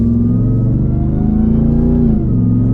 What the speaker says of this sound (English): Ah, the supercharged V8 sound.